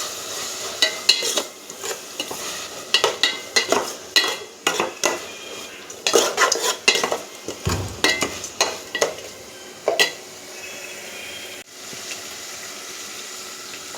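Ginger garlic paste is stirred into village-style dried fish curry in a pan: a spoon scrapes and clinks against the metal in irregular bursts, with a soft sizzle beneath and quieter pauses between strokes.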